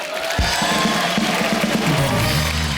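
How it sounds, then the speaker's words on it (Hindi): Sustained burst of studio audience applause and cheering on a comedy show, a loud, dense wash of clapping that swells for a few seconds. "जोरदार तालियां इनके लिए।"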